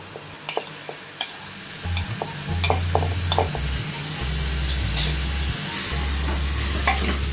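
Chopped tomatoes are stirred in a pot for chicken dum biryani, with a continuous hiss of frying, scraping spoon strokes and a low background hum, no voices.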